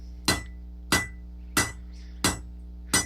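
Five heavy ringing hammer blows land at a steady, roughly half-second rhythm as a 4.5 pound hammer strikes hot steel by hand while forging a rose from one piece, each hit sharp and metallic with a short ring after it.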